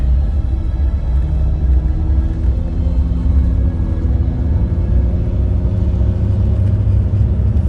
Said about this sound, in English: There's another big truck next to me.